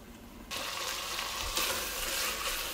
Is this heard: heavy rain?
no